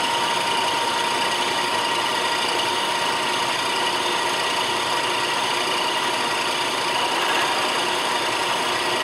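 A milling machine's gear cutter spins at about 500 RPM over an aluminum workpiece on a dividing head setup, giving a constant, even whir and hiss with a faint steady tone and no speech.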